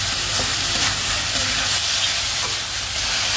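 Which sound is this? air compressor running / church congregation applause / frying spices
frying spices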